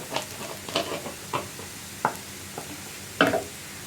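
A spoon stirs turmeric, Kashmiri chilli powder and garam masala in a pan, a series of separate scraping strokes at an uneven pace over a faint sizzle, with no talking.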